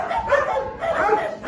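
Dogs at a municipal kennel in Camaquã yip, bark and whimper in short close bursts, a small cluster of high, whiny calls over a brief moment.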